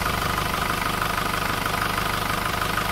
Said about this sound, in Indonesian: Mesin juga halus, tidak goyang, menandakan kompresi juga rata.